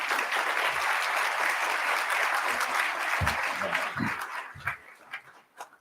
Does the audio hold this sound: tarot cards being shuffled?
no